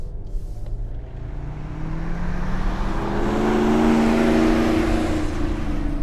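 A 2016 Volvo XC90 accelerates hard from a standstill to 60 mph, its engine note rising steadily in pitch and loudness as the revs climb, heard close from inside the cabin with no talk.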